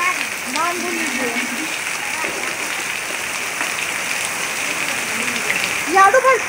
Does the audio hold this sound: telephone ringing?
no